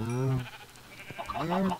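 Two wavering, nasal bleats from Minecraft sheep, one at the start and another near the end, with a short quiet gap between them.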